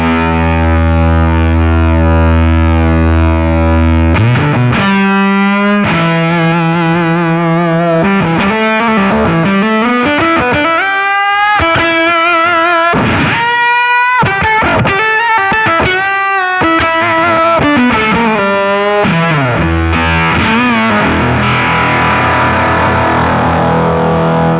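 Electric guitar run through a JAM Pedals Octaurus octave distortion pedal, producing loud, fuzzy, saturated riffs with an added octave layer. Sustained chords give way to busy melodic runs and bends over about twenty-five seconds, with no talking.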